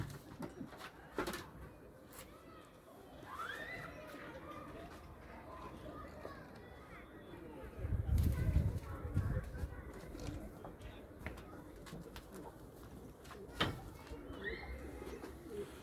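Soft coos from Adana pigeons drift in a few times over an outdoor background, with a louder low rumble partway through and occasional clicks.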